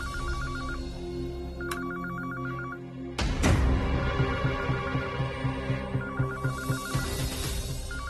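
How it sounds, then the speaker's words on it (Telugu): A telephone rings in repeated electronic bursts indoors, followed by a loud sudden hit and a pulsing, throbbing dramatic tone, with no talking. "హాల్లో ఫోన్ రింగ్ అవుతుంది"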